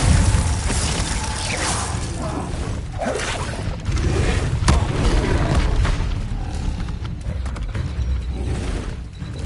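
A Glacius ice spell cast in Hogwarts Legacy: loud crackling, shattering and booming bursts with whooshes, dense and continuous.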